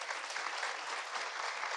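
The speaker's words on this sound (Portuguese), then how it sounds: "uma salva de palmas para o Ed também" An audience at a tech panel on bank modernization claps steadily, a dense, even wash of applause from a crowd welcoming the moderator, with no voices standing out.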